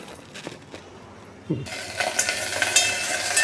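Quiet clinks and faint handling noises, then a louder, steady sizzle of vegetable pieces frying in oil with stirring scrapes, no voices.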